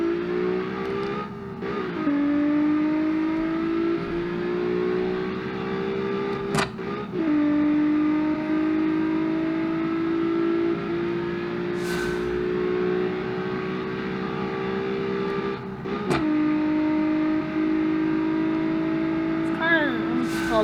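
Simulated engine of a V6-swapped Mazda Miata on a quarter-mile run in the car game Automation, a steady droning tone that climbs in pitch and drops at each gear shift several times, with a voice talking over it.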